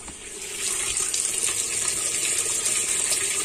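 Water pours into a Mueller Big Aquatec 16 kg semi-automatic washing tub, a steady, close, hissing gush that swells slightly after the first half second and continues alone without talk.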